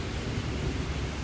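Heavy rain pours down in Dubai, a steady dense roar of broadband noise with no breaks, close and loud throughout.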